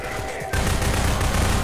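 Rapid automatic gunfire from a stronger weapon in the video game Half-Life 2 erupts suddenly after a brief quieter moment, loud and sustained in a continuous rattling burst.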